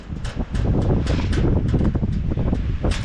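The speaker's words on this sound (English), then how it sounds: "Oh, it's windy." Strong wind buffets an outdoor microphone, a loud continuous roar with gusty bursts and no talking.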